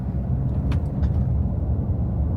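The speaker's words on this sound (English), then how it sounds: "Traffic." Steady low road-traffic rumble on a morning commute, heard from inside a moving vehicle, with a couple of faint brief higher swishes of passing cars over the constant drone.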